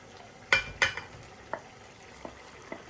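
Fish pieces going into a Sylheti tomato curry cooking in a pan, with a soft simmering sizzle broken by a few sharp clinks and stirring knocks, the first two loudest, then fainter taps.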